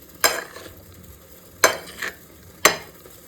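Vegetables being mixed by hand with salt, turmeric and chili powder: three distinct, close scraping clatters spaced about a second apart, with quiet between and no talking.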